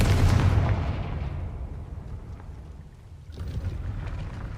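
A Confringo blasting spell in Hogwarts Legacy bursts with a loud, booming blast that rumbles and slowly fades, followed by a second, quieter burst near the end.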